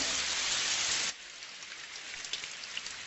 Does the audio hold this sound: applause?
no